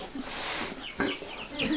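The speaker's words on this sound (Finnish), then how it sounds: "Siellä on kana, hautomassa ja munia paljon." A brooding hen clucks softly on a farm, giving a series of short, low clucks and murmurs close by against a steady background hiss.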